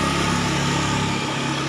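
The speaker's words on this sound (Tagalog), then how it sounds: "ingay yung motor" A motorcycle engine drones steadily close by on the way to a morning market, a continuous mid-pitched hum with no breaks and no one speaking over it.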